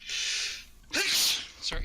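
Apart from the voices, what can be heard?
sneeze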